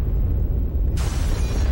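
A fire werewolf fires a cannon blast in Castlevania: Legacy of Darkness, heard as a sudden loud, hissing burst over a steady low rumble that keeps going to the end.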